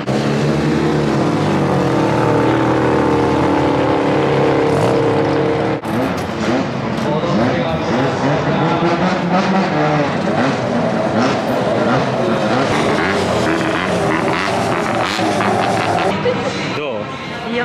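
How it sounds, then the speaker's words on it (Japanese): Rotary-engine cars, including a Mazda RX-8 and RX-7, drift at a rotary meeting, their loud, rasping, high-revving engines surging and wailing as they pass, while people talk over the noise. "これからドリフト走行が始まるということで"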